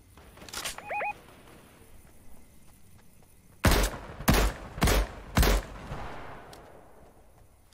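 Four loud, evenly spaced gunshot bursts ring out in a shooter game, fired with a semi-auto or burst rifle, following a couple of fainter earlier shots and quiet ambience, with no talking.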